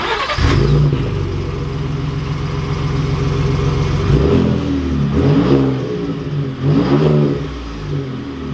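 The engine of a 2019 Ford F-150 Raptor pickup idles with a steady low rumble, then revs in several sharp bursts that climb and fall back. It is loud and close.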